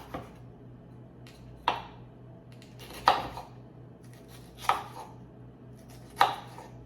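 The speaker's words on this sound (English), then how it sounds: "Let's cut up some red peppers" Knife chopping washed red peppers for a shrimp recipe: four sharp, distinct chops spaced about a second and a half apart, close and clear over a quiet room hum.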